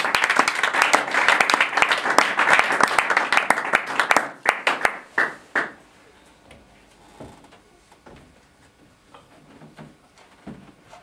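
A church congregation applauds in a thick crowd wave that fades after about four seconds into a few scattered claps and then quiet room sound.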